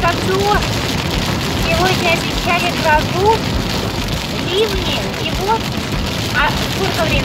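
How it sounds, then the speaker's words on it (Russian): Heavy summer rain shower pouring down in the Baltic region, a dense, loud, continuous patter of drops on surfaces, with faint voices mixed into the wash of rain. "У нас пошел дождь, даже сильно ливень."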